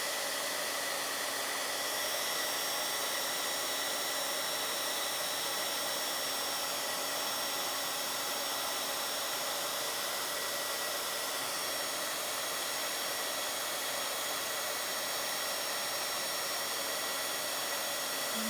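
Heat embossing tool blowing hot air over gold embossing powder while crafting a Bible journaling page, a steady broadband whoosh with a constant hum running unbroken and close, no talk.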